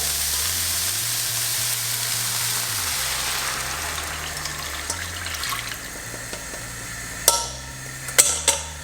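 Wine and mussel juice poured into a hot pan, with a continuous watery sizzle of liquid hitting the metal, easing off over several seconds before a few sharp clanks of utensils against the pan.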